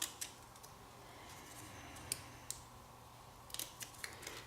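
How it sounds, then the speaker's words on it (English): Scissors make quiet, scattered snips while cutting around paper flower petals for a handmade card, several short crisp cuts close by with long pauses between them. "I'm just going to make a little snip in all those sides"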